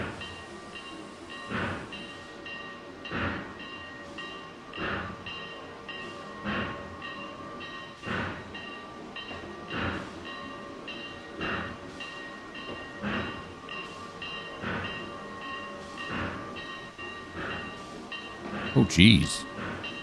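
A locomotive pushing Conrail gondolas in the Trainz 2022 railroad simulator, with rhythmic wheel clacks repeating about every one and a half seconds over a steady mechanical hum, and a brief spoken exclamation near the end.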